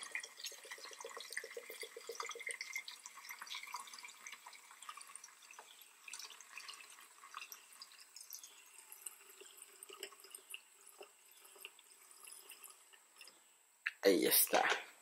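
Isopropyl alcohol trickles into a bottle during mixing of a car-cleaning solution, a faint thin pouring and dripping sound under a voice, ending in a brief louder splash or handling noise near the end.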